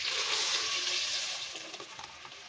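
Water poured into a pot of lentil soup with oil and onion, a steady rushing splash that gradually fades over a couple of seconds, no talking.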